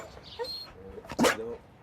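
Two dogs, pit bull types, give short barks, yips and high whimpers close by, ending in one louder bark, with low background noise and no clear talk.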